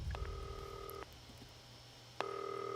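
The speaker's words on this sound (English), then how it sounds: "We're getting a phone call." A phone rings in the video game Not For Broadcast, with two bursts of a steady electronic ringing tone separated by a pause, clear and fairly close over a low background hum.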